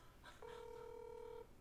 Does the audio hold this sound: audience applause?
no